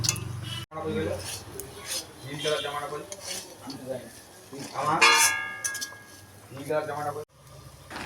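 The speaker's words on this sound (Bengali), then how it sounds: "এইভাবে নাড়তে নাড়তে পেঁয়াজটা ভাজা হয়ে যাবে আর বিচিগুলোও সেদ্ধ হয়ে যাবে" A spoon scrapes and clinks in a pan while onion and jackfruit seeds are stirred, producing intermittent metallic clatter with a faint sizzle; a voice talks over it.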